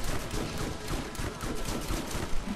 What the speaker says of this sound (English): I'm almost out of fucking shotgun ammo. I shoot too fast.